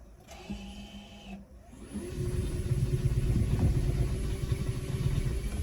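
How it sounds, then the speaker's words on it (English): A Renault Zoe ZE50 R135 electric motor, previously faulty, spins up with a rising whine and rumble that holds steady and fairly loud after a quiet start of faint electronic tones and clicks. "the motor's spinning."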